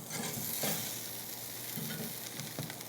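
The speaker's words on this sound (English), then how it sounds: "I'm gonna cook another patty real quick." A beef burger patty sears on a hot cooking surface for a green chile cheeseburger, a steady low sizzle with soft stirring or scraping touches, close and continuous with no talk.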